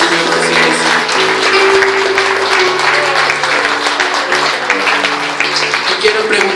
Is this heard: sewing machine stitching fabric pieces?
no